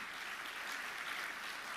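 Steady applause from an audience at a tech week opening ceremony, a soft even patter of clapping that holds without break and stays fairly faint and distant.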